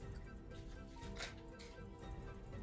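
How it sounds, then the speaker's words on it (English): A single riffle shuffle of a deck of playing cards during a close-up magic trick gives a faint, brief flurry of papery flicks over quiet room noise. "And can you see that the deck is shuffled here, right? I'll give it one shuffle."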